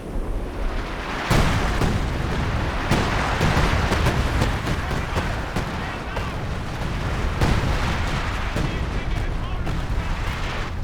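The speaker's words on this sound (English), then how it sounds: "SirFailalot dropping down some artillery on the VP as well." Artillery shells rain down around a victory point in the real-time strategy game Company of Heroes 2, heavy booms and crackling impacts landing repeatedly over a dense battlefield din, with a voice commentating over the barrage.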